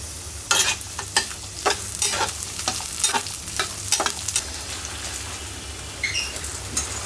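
Peanuts fry in mustard oil in a pan, giving a soft crackling sizzle broken by a series of scraping stirs and clatters, close and moderately quiet, with no talking.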